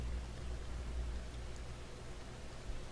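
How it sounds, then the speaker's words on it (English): Steady rain falls in a continuous, even hiss with a deep rumbling undertone, soft and enveloping with no distinct individual drops and no voices. "Breathe, listening to the sound of the rain"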